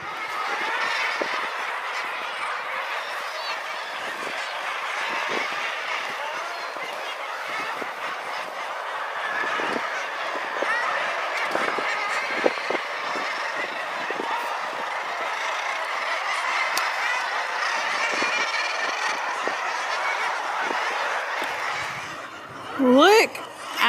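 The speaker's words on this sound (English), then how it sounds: "Look at all the birds." A large seabird colony on the Isle of Lunga calls continuously, a dense, busy chorus of honking, chattering bird cries up close, with a voice speaking now and then over it.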